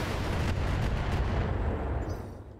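Heavy weapon fire from a mech in the Battletech video game, a dense, loud booming blast with a rumbling low end that holds steady for about two seconds before tapering off.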